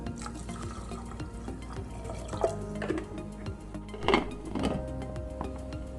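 Half a tumbler of water is poured onto minced mutton in a cooking pot, a gentle, uneven splashing and trickling with a few soft clinks and bumps, close by and without talk.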